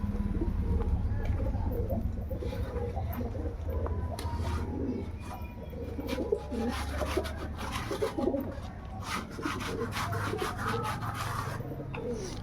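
Pigeons coo softly in a group while being fed, with rubbing and scraping sounds and sharp clicks scattered over a low, steady background.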